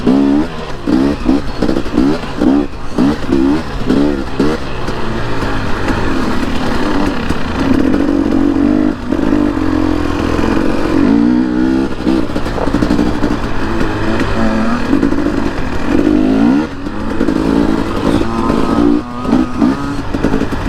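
Engine of a new Yamaha YZ250F dirt bike revving steadily and loudly close by for about twenty seconds, with rising and falling pitch and no talking over it.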